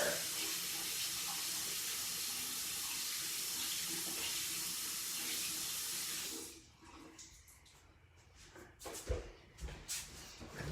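A bathroom sink tap runs in a steady loud hiss of water while a makeup tool is washed, then the flow stops and a few wet knocks and handling sounds follow up close.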